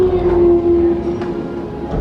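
Hogwarts Express, a Great Western Railway 4900 class steam locomotive, gives a loud, sustained whistle tone over a low rumbling background, close and steady.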